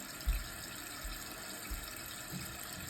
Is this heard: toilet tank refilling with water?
yes